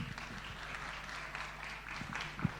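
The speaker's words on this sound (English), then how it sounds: "A round of applause for you" Wedding guests give the newlyweds a round of applause, a soft, fairly distant patter of clapping with a low hum underneath and one sharper knock near the end.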